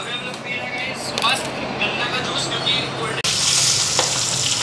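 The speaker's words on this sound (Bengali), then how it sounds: "তো এইদিকে মাছটা ভাজা বসাই দিলাম।" Fish fries in a pan on a home kitchen stove, giving a steady loud sizzle with stirring scrapes, and the frying grows brighter and harsher toward the end.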